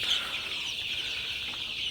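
Sonali super hybrid chicks clucking softly in a poultry-rearing setting, a steady faint chorus of small high calls running evenly through the moment with no talk.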